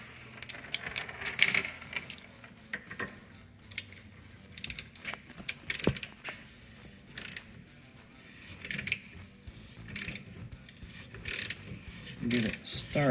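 Socket ratchet turning on the exhaust back pressure valve of a 7.3L Powerstroke diesel, with scattered bursts of quick clicking and metallic handling noises over a quiet background, fairly close.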